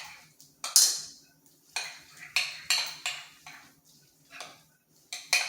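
A spoon stirs mayonnaise into fish taco filling in a bowl, making a rhythmic series of clinks and scrapes against the bowl. Each stroke is distinct, close and fairly quiet.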